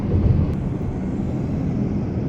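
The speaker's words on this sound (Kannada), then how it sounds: "ಹೋಗ್ತಾ ಇದೆ ಫ್ಲೈಟ್" An airplane passes overhead near an aerodrome by an airport road, a low, continuous engine rumble that is heard steadily throughout without any voices.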